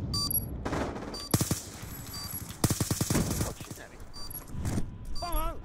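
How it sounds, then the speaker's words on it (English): Rapid automatic gunfire in a video game, with loud bursts of machine-gun fire and scattered shots heard through the game audio while a voice talks over it. "Magic Panda from Mars is shooting at me"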